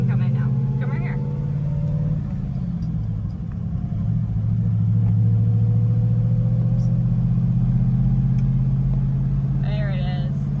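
The engine of a 1963 Studebaker Avanti runs at a low, steady idle while gears are shifted, with a deep rumble that holds throughout and a few faint squeaks and thin higher tones over it.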